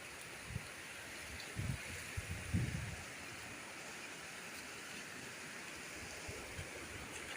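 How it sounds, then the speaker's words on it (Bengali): Waterfall stream flowing in a hilly natural setting in Odisha, a faint, steady wash of water throughout with a few soft bumps and rustles early on. "এটা ঝর্ণাটাই যে এখান থেকে বয়ে যাচ্ছে"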